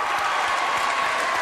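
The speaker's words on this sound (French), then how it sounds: "Applaudissements pour Mme Moité." Studio audience at a French television show applauding steadily, a dense, even wash of clapping that holds at the same level throughout.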